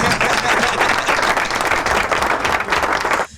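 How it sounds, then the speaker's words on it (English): A soundboard applause effect on a podcast: a loud, dense burst of crowd clapping and cheering that holds steadily for about three seconds and then cuts off abruptly. "I think that deserves a round of applause"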